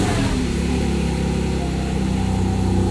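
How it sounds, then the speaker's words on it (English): A loud, deep sport exhaust on a new Porsche 718 Spyder RS rumbles steadily up close, a throaty continuous drone with no voices. "Loud exhaust turned on."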